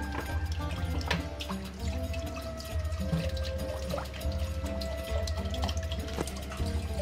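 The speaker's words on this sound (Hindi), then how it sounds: "एक लीटर पानी डाल के" A litre of water poured into a pot holding soaked tamarind and aloo bukhara plums for a sharbat; a steady, continuous splashing pour that runs evenly for several seconds at moderate, close level.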